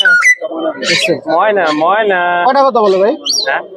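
A Chittagong hill myna at a bird market imitates human speech close and loud, producing a run of whistled, voice-like warbling phrases with squeaky chirps in between.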